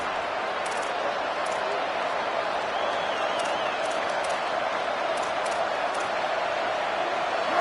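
Dense, steady roar of a packed stadium crowd at a football game, loud and unbroken throughout, with a commentator's voice talking over it.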